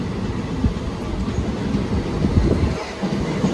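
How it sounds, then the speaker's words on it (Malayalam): A MEMU passenger train bound for Coimbatore from Palakkad rumbles past close by, a steady low roar with faint rhythmic clacks of wheels on the rails. "ഇതിപ്പോൾ കോയമ്പത്തൂർ പാലക്കാട് പോകുന്ന ഒരു മെമ്മോ ആട്ടോ"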